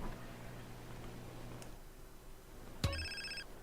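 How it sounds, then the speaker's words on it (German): An in-game mobile phone rings in GTA San Andreas, a short bright electronic ringtone that sounds once near the end, clear over quiet game background noise. "Oh, das Telefon."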